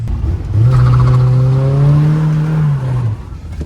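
A drift car with a welded differential revs hard on muddy tires, its engine note climbing into a loud, sustained near wail for a few seconds before dropping away.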